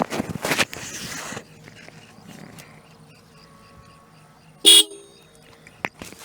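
A short, sharp horn blast from a TVS Apache RR 310 motorcycle sounds once up close, following some handling noise and a quiet hum.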